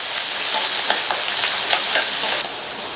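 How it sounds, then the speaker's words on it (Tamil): Sliced onion, a cut green chili and curry leaves hiss and sizzle in hot oil in a pan, a dense steady frying noise heard close up with faint stirring scrapes, alone and without talk. "கூடவே கறிவேப்பிலை சேர்த்த வெங்காயம் 1 நிமிஷம் வதங்கட்டும்"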